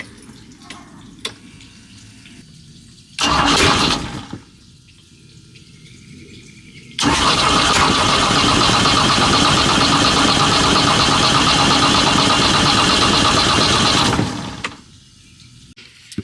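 A Mercruiser 3.0 boat engine fitted with new lifters cranks briefly, stops, then starts and runs as a steady loud roar for about seven seconds before shutting off.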